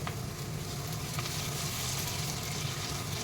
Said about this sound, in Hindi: अब इसमें मैं ये अदरक लहसुन पहले डालूँगी।